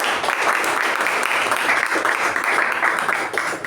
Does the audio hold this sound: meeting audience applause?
yes